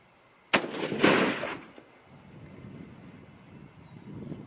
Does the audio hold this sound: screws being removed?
no